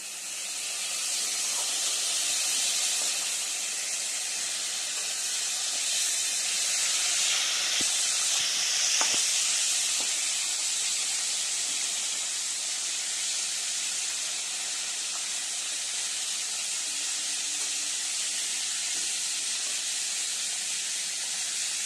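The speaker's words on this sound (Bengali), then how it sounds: "এইবারে পটলটা ভাজা ভাজা হয়ে গেলে আমরা কড়াই থেকে তুলে নেব" Pointed gourd fries in oil in a wok, a steady, hissing sizzle that holds evenly throughout with a few faint clinks.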